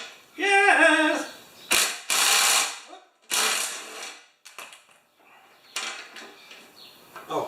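A ratchet working the nylon skid nuts on a YardWorks snowblower chassis, heard as several close, sharp clicking bursts separated by pauses, with a brief voice at the start.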